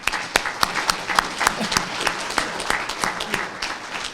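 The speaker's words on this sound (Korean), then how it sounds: "여러분, 우리 어려운 걸음으로 오셨는데 박수로 크게 환영합시다." Applause from a crowd, steady overlapping clapping with a few sharper claps standing out, moderately loud and continuous throughout.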